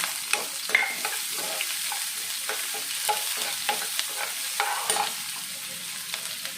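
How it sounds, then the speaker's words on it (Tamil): Chopped onion frying in a pan with cumin, a quiet steady sizzle with small crackles and pops, close and alone. "ஒரு சின்ன பெரிய வெங்காயம் ஒரு சின்னதாக கட் பண்ணி வச்சுருக்கேன், அதை போட்டுக்கலாம்."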